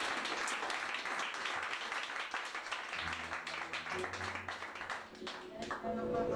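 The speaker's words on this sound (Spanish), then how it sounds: "Denle un fuerte aplauso al Señor" A church congregation claps during a Spanish-language worship service, a mix of individual hand claps and rolling applause, with a voice and low hum of music or speech joining partway through.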